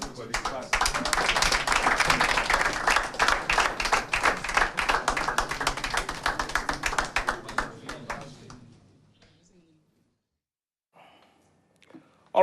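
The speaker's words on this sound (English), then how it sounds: "Let everybody clap." Audience applause at a sports gathering, a dense burst of clapping for about eight seconds that thins out and fades, followed by near silence with a few faint stray sounds.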